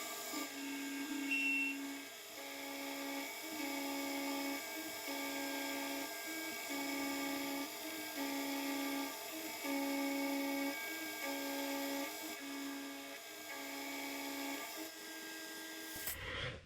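A boring and facing head on a machine cuts steadily across a metal workpiece to square off its back face, giving a continuous high whine with regular rhythmic pulses that stops abruptly at the end.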